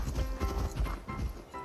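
Horse hooves clip-clop in a steady, fast rhythm in the survival battle royale game Mission Evo, fairly loud and close, with game ambience underneath and no speech.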